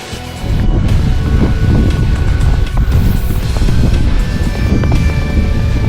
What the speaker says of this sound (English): Probably a bit windy up here.